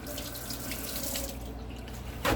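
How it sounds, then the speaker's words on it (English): Kitchen tap runs steadily at close range while hands are rinsed under the stream, with a brief louder splash at the end. "And let me rinse my hand off."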